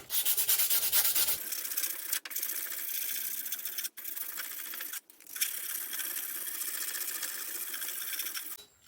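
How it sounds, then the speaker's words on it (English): Hand sanding a forged steel herb chopper blade with sticky-back sandpaper, a continuous rhythmic scratchy rasp of back-and-forth strokes, loud and close, broken by a few brief pauses. "What I want to do now is clean it up with hand sandpaper."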